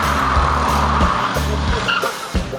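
Grandpa's 1975 Chevrolet Camaro revving and speeding up, a loud, steady engine roar close by with rising and falling pitch steps as it accelerates, no voices over it.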